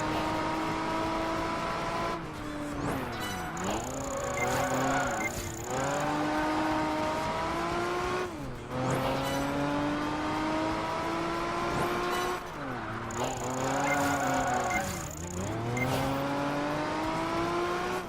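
A race car runs laps in Project Gotham Racing 4, its engine revving hard and climbing in pitch, dropping sharply at gear changes and corners in a repeating pattern, with occasional tire squeal and a faint high tone.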